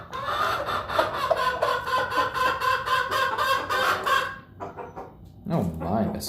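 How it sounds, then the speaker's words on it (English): A little gray silkie rooster clucks repeatedly while wandering on blankets, with someone talking over the soft, close clucks that end in a louder call. "over here, clucking about, enjoying his time on the blankets, is our little gray silky rooster named Stormy."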